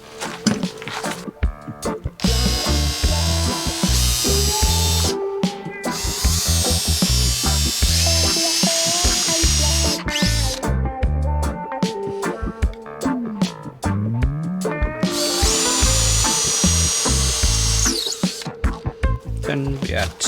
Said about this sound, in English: We drill some holes for the bolts to go in, and then we drill in the bolts or the screws.